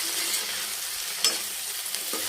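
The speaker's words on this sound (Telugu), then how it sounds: "అడుగు అంటకుండా ఇలాగా సిమ్లో పెట్టి వేయించుకుందాం." Okra and onion pieces frying in a pan on low heat, a steady soft sizzle with a brief scrape of stirring partway through, close up and with no talking.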